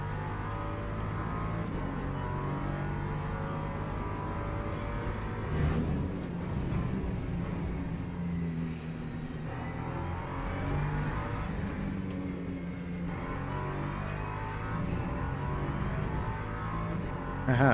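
LMP2 prototype race cars in a racing video game, a continuous loud engine drone with shifting revs as cars close in and pass one after another, no talk.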